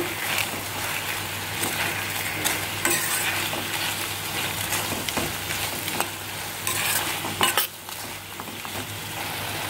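Tomato, onion, dried chili and curry leaves fry in a pan for a restaurant-style chutney, a steady close sizzle with scraping and stirring clatter against the pan running throughout, with no voice over it.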